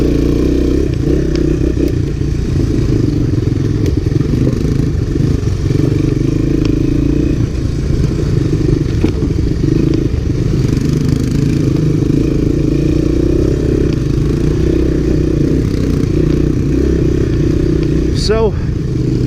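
Honda ATC three-wheelers from 1985, a Big Red and an ATC250SX, ride a trail. Steady engine drone and rumble continue throughout with clatter, and a rising rev comes near the end.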